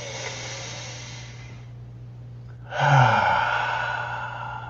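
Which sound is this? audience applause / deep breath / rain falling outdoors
deep breath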